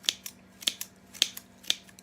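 Scissors snip while trimming a Dollar Tree Christmas craft, with four crisp, close cuts spaced about half a second apart and faint rustling between them.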